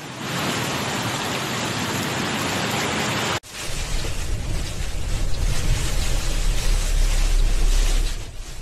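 Heavy storm rain in Rosario, Argentina, hisses down steadily, then after a sudden cut continues as a loud pattering downpour with low wind rumble building underneath.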